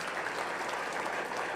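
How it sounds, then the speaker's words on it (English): An audience at a 4-H beef show applauds, a dense, even wash of many hands clapping at a distance, sustained without a break. "let's give them a big round of applause"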